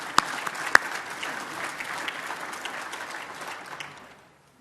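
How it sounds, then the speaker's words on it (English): A round of applause fills the room at a bar association luncheon, steady and moderately loud from a large seated crowd, tapering off into silence at the end. "I want to give him a round of applause."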